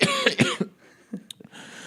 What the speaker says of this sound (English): Just started coughing.